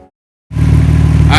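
A Vaydor kit car's engine kicks in after a brief silence, then holds a loud, close, steady rumble with a strong low hum as it drives on the road.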